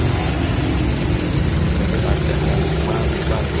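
A 2004 Toyota Wish with a 1.8-litre engine and automatic transmission idles with an even, steady hum and no change in pace.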